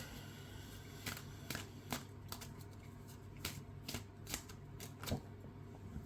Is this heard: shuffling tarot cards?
yes